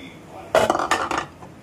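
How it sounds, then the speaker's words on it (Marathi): Prawns tipped into a pan of onion-tomato masala give a short burst of clattering, clinking pan and utensil noise lasting about half a second, fairly close and loud, then settle to quiet. "आता मी त्यात कोळंबी घालून घेते।"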